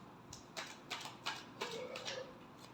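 A deck of tarot cards is shuffled, giving a quiet series of crisp, papery riffles and slaps, about six separate bursts in an irregular rhythm, heard close and alone.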